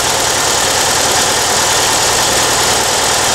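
A Volkswagen car engine idling after a cold start, recorded close at the rear near the exhaust; a loud, steady, rough low rumble with constant vibration and no speech.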